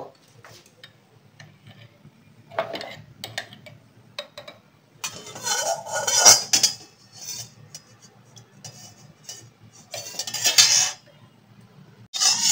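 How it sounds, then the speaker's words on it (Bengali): A wok is set on a gas stove and ghee is added, giving scattered metallic clanks, knocks and scrapes of cookware against the burner, some louder bursts and a faint voice in the background. "গ্যাসটা জ্বালিয়ে নিয়ে কড়াইটা চাপালাম, চাপিয়ে আমি এর মধ্যে ঘি দেবো।"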